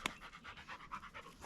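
A working dog pants quietly and rhythmically nearby, short quick breaths repeating in an even pattern, faint and close with no other sound over it.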